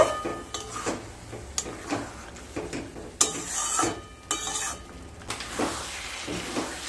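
Spoon scraping and stirring spice masala in a pan for Bengali egg curry, the masala being fried over low to medium heat, with irregular clinks and scrapes and a soft hiss, close up and without talk.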